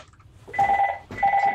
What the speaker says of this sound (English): Sorry, my phone's going, guys.